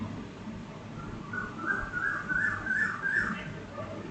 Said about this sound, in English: finally the whistle had to be sounded